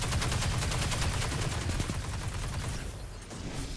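Rapid gunfire from a gun in the video game Destiny 2 during a Crucible Control match, a fast, evenly spaced burst of shots that continues loudly before thinning out near the end.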